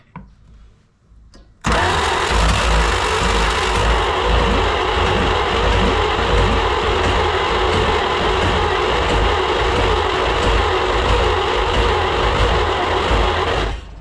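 After a near-silent moment, a 1938 Dodge engine cranks and catches, then runs loudly and steadily with a rapid, rough, chugging pulse that lasts to the end, close to the listener.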